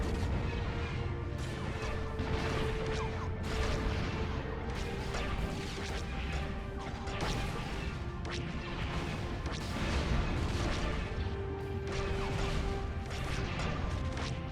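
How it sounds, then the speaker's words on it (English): Explosions of space platforms during a battle in a Star Wars strategy game, a dense continuous barrage of crashes and booms layered over steady rumbling combat noise with no talking. "With an explosion, one of the XQ platforms falls, and now another."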